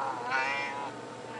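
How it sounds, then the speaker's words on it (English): A single drawn-out cat meow, close and fairly clear, fading at the end over a low background hiss. "you can meow again?"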